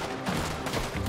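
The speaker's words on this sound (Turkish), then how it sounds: "Aha, çatışma başlıyor." Gunfire crackles through a firefight in Red Dead Redemption 2, a short dense burst of overlapping shots at moderate loudness.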